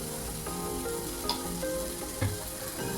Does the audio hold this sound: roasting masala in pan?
yes